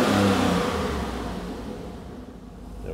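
A BMW E46 fitted with an L98 V8 engine revs up, loud and close, the roar easing down over a few seconds as it settles back toward idle, with no talking.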